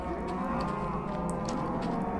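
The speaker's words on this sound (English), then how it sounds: "Right there is the auto cow farm." Several cows in an automatic cow farm in the Minecraft video game moo constantly over one another, making a loud, dense, unbroken drone of overlapping calls.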